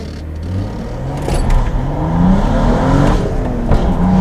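BMW 435i tuned to about 400 horsepower, engine note rising steadily as the car accelerates on a drive, loud and continuous from inside the cabin with rising harmonic tones and no talk.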